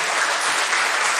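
A church congregation at a revival service claps steadily in a dense, continuous wash of applause, filling the whole moment with no voices on top.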